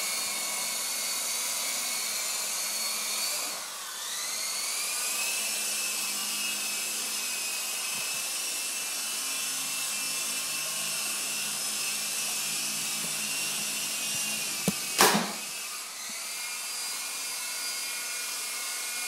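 A small Chinese-made toy helicopter spins up for takeoff: a loud, steady motor whine rises in pitch early on and holds, close to the mic, with a sharp knock near the end.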